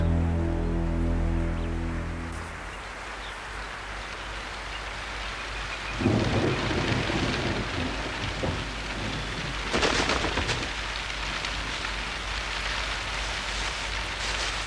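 Steady heavy rain falls through an early morning northern forest, with thunder rumbling in and swelling twice as the storm builds, the downpour continuous and close with no voices.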